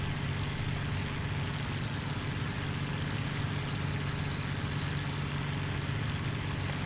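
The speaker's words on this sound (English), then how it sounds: "There goes my engine shuddering." A piston aircraft engine in a flight combat game drones as a continuous low hum with a steady, slightly rough texture, moderately quiet and heard alone without talk.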